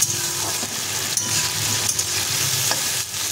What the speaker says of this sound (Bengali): এবারে চাপা দিয়ে দিয়ে আনাজটাকে একটু ভেজে নেব